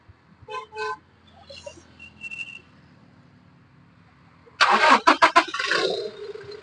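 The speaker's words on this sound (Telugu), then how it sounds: "సింగిల్ సెల్ఫ్ అయితే బండి స్టార్ట్ అవుతుంది." A 2018 Toyota Innova Crysta 2.4G engine cranks and starts on a single turn of the key, the starter catching into a loud burst that settles to a steady idle after a few quieter clicks and beeps.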